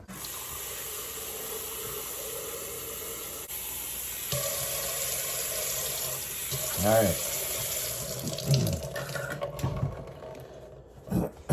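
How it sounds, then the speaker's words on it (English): Tap water running into an empty blender jug marked to six cups, a steady hissing flow that changes pitch as the jug fills, with clunks of handling and a brief spoken word. "So you just fill that up with water."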